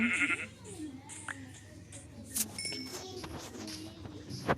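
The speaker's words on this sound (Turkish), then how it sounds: "Koyun var." A sheep bleats a few times nearby amid outdoor noise, with a faint metallic ding and some background voices.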